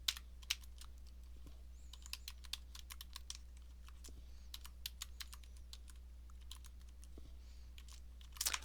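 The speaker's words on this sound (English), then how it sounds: "So typing that into Excel," A computer keyboard tapped in quick, irregular bursts while figures go into a spreadsheet, crisp close clicks over a low electrical hum, with no voice.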